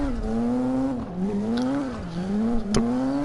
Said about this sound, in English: Listen to the sound of that car roar.